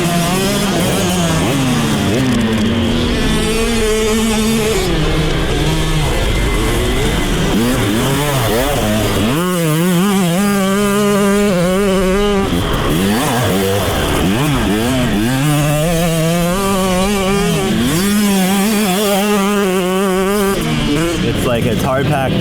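Dirt bikes ride a motocross track at Cessnock MX in Australia, their loud buzzing two-stroke engines revving up and down in repeated rising whines, close by and constant, with people talking over the noise.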